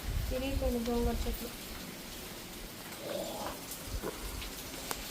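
Steady rain falls in a continuous, soft wash of patter, with a voice speaking briefly near the start and a faint murmur later.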